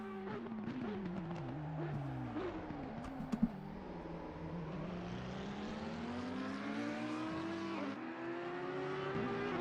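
Race cars in an Assetto Corsa Competizione sprint replay at COTA scream past with rising and falling engine whine, layered gear changes and a brief squeal or bump near the middle, loud and continuous throughout.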